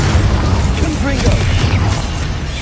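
Confringo fire-blast spell exploding in the Hogwarts Legacy video game, a short burst of booming, crackling blasts layered under a voice and game sounds.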